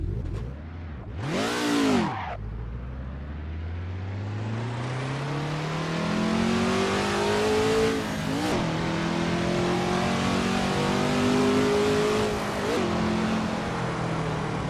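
A Ford GT40 engine in Assetto Corsa roars up through the revs with rising pitch after a sharp blip at the start, staying loud and close with gear-change dips along the way.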